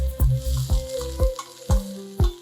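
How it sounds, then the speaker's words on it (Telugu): Medium-sized onion pieces, sprinkled with a pinch of salt, fry in a pan for a horse gram chutney, giving a steady sizzle under a repeating beat of low thuds and tones. "ఉల్లిపాయ వేగిపోయింది"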